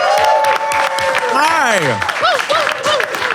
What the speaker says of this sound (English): We didn't tell you they're going to clap.